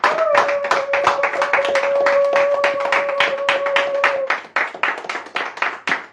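A church congregation claps in unison to acclaim the Lord during a worship service, a loud, steady rhythm of hand claps with a sustained tone beneath for most of it, then the claps continue alone.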